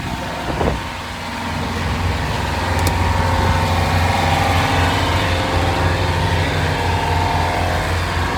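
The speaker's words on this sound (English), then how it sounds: "And the engine sounds nice." A boat engine runs steadily with a low, continuous droning hum out on open water, close and fairly loud, with a brief knock or bump near the start.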